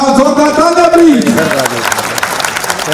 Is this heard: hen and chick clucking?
no